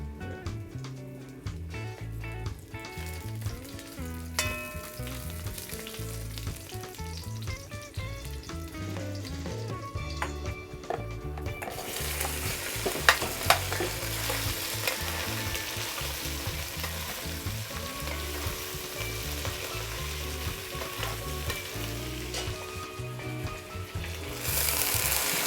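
Sugar browning in a pot for lentil peas pelau with green fig, cooked in Paramin, Trinidad, gives a steady close sizzle and crackle throughout, with music playing alongside.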